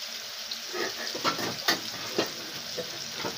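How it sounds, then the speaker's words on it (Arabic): Food being lowered into hot oil crackles with a steady broad sizzle, while a few sharper pops and clatters of handling ring out close by; no one talks. "وهنزل بيه في الزيت"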